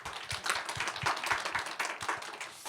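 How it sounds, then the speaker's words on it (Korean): An audience at the Chungnam Boost-up Demoday 2023 claps for startup pitches. The applause is continuous, fairly quiet and evenly textured, with no voices over it. "박수를 다 같이 한번 보내주시길 바랍니다"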